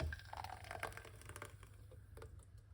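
A homemade night drink being poured out, a faint liquid splash and trickle with a few soft drips and clinks, quiet and close with no talk.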